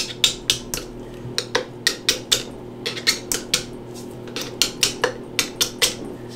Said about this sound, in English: hit it down little by little on each side with a screwdriver